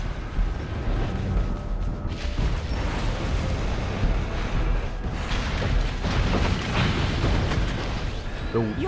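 A turret is destroyed in Mobile Legends with deep booming explosions and crackling bursts over dense, continuous battle noise. An announcer-style voice speaks over part of it.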